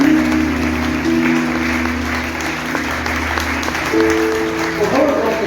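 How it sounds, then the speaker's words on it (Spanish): Applause fills a church service held in Spanish, a steady crowd of clapping that runs throughout, under sustained musical tones and a voice speaking. "Denle un aplauso al Señor."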